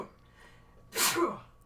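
A single close, sharp sneeze bursts out after a quiet breathy moment and tails off quickly.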